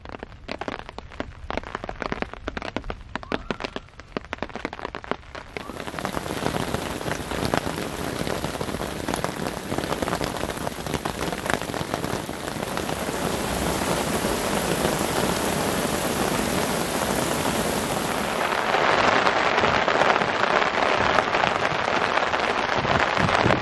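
Heavy rain pours steadily over a riverside campsite, a dense sustained hiss of drops on surfaces that swells stronger partway through and holds, with no voices.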